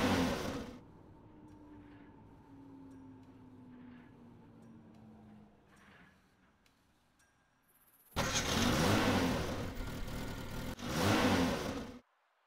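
A video game vehicle engine in DayZ Epoch hums at a low pitch, its tone sliding slowly downward, then a loud rushing burst of noise surges in near the end.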